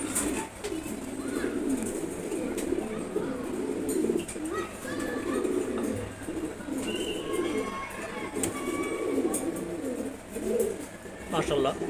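A loft of friendly domestic pigeons, including an ash-coloured bird, keeps up a dense, continuous murmur of low cooing close by, with faint chirps above and a voice occasionally mixed in.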